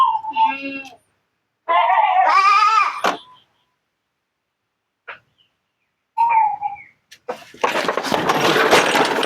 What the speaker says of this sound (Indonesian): Kambingnya akan kesakitan biasanya.